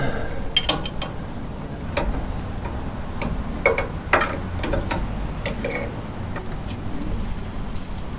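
A 22 ratcheting box wrench turns a bolt on a Unimog U1300L during a 4-way valve replacement, giving sharp intermittent ratchet clicks and ticks in short irregular bursts over a low background hum.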